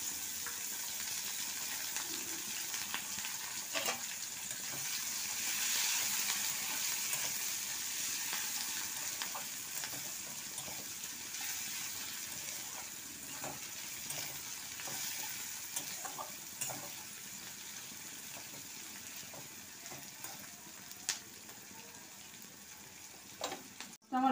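Chopped onion fries in a pan with garam masala, giving a soft, steady sizzle with scattered small ticks of stirring, fairly faint and even over a long stretch.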